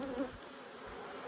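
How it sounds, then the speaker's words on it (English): Honey bees humming softly in an open hive during a queen release, a faint continuous buzz with a brief louder pass at the start. "Still plenty of bees."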